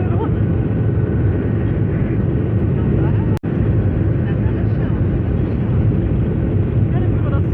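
Airplane engines roaring loudly and steadily during takeoff on a first flight, a dense broadband rumble filling the cabin with a brief dropout midway, while a passenger speaks over the noise.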